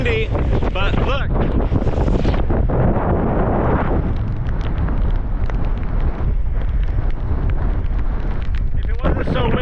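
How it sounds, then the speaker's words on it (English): Strong wind buffets the microphone on an open ferry deck in Alaska, a loud constant roar with rumbling gusts, and a voice talks briefly under it. "It's a little windy"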